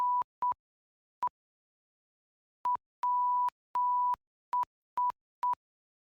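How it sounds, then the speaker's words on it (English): Morse code beeps as a steady single-pitch tone, a sequence of short dots and two longer dashes with gaps between, clean and isolated with no talking. "You literally found Morse code for news?"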